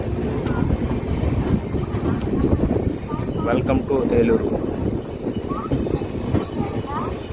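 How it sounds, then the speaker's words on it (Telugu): The Swarnajayanthi superfast train rolls into Eluru station with a steady rumble and clatter of wheels and coaches heard from inside a general coach, while a person talks over the noise and brief squeals rise midway. "మన ట్రైన్ అయితే ఏలూరులోకి ఎంటర్ అనమాట"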